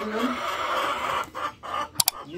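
Domestic chickens, recently recovered from illness, cluck in short nearby bursts, with a voice talking alongside and two sharp knocks near the end.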